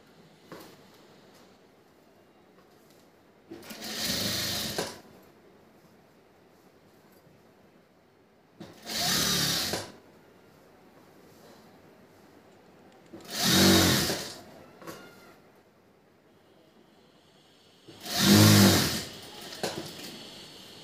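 A sewing machine stitches a blouse sleeve in four separate runs of rapid, steady whirring, each lasting about a second, with quiet pauses between them.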